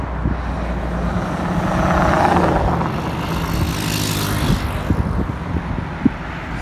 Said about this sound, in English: There's a car coming from that side.